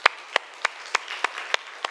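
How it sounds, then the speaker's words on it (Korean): Church congregation during Sunday worship gives slow, evenly spaced claps, about seven sharp hits in under two seconds, fairly close and clear. "우리 하나님께 영광의 박수 하겠습니다."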